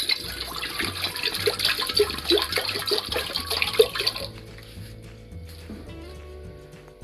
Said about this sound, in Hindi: और प्रेशर कुकर में अब मैं पानी डालूंगी।